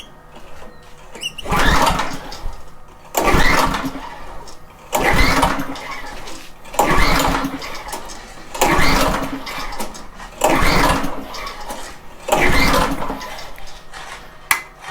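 A rototiller engine with the choke on is pull-started repeatedly, giving seven loud rhythmic bursts of recoil cranking about every two seconds, each coughing briefly without catching.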